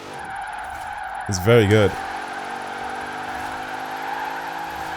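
A Dodge Durango Demon drifts in Forza Horizon 4, engine droning and tires hissing steadily throughout while someone briefly talks over it.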